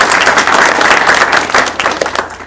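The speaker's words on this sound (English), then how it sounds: "round of applause for VOLTA" An audience at an indie game developer panel event claps and applauds steadily for a couple of seconds, a dense wash of hands that begins to thin out at the end.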